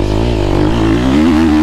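A 2024 250F motocross bike's four-stroke engine climbs through the revs, its rising, wavering buzz loud and close, heard alone without voices.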